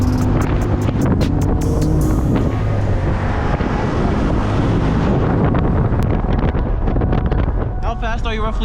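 Heavy, continuous wind roaring across a microphone at a supercar track day, loud and buffeting throughout, with a vehicle's rumble mixed underneath and brief talk near the end.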